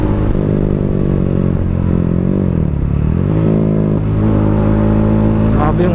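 A Bajaj Dominar 400 motorcycle engine pulls hard under acceleration, loud and close, its harmonic drone rising and dipping through gear changes with a final quick rev climb, and no voices over it.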